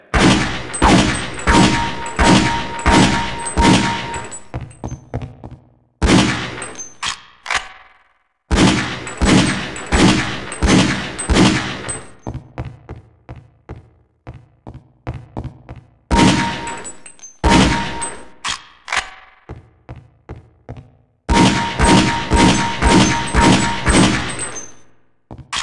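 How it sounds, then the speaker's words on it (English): Bursts of pistol fire on a firing range in the video game Half-Life: Opposing Force, several loud sharp shots in quick rhythmic volleys separated by short pauses, each crack ringing with a metallic tail. "The goal is for you to place 6 shots within the inner circle of each target."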